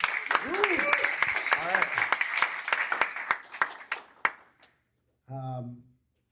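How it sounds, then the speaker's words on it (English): At a startup pitch night, an audience claps in a burst of scattered, uneven claps under a host's voice, thinning out and stopping, followed by a brief spoken remark. "So who's ready for pitch night? Let's give a round of applause."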